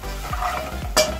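Onions and spices such as garam masala being stirred in a pot for butternut or pumpkin soup, a short burst of close scraping under a steady low sizzle, ending in a sharp clink.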